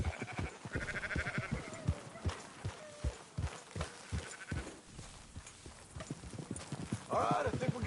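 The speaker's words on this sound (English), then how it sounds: "Marston, why don't you leave the sheep to me?" Sheep bleat repeatedly among steady horse hoof clip-clops in Red Dead Redemption 2, the hooves falling in a regular walking rhythm while a voice talks over part of it.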